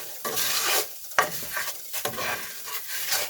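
Noodles fry and get stirred in oil in a pan over medium heat, a steady close sizzle broken by brief scraping bursts of stirring and a sharp clink of utensil on pan.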